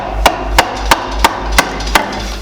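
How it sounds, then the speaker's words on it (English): A chisel struck repeatedly while cutting into a hickory board bow, six sharp evenly spaced knocks about a third of a second apart, close and loud over a low background hum. "Now it's pretty quick to use a chisel, just following both your lines of your fades."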